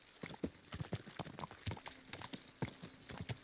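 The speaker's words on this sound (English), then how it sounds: "Thought I heard another horse." Rhythmic clip-clop of horse hooves trotting on a hard surface in the video game Kingdom Come: Deliverance II, quick repeated clopping at a steady pace, fairly close.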